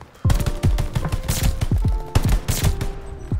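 Rapid gunfire from a weapon in a video game, a string of punchy, booming shots in quick succession with short gaps between bursts, loud and close with no talking.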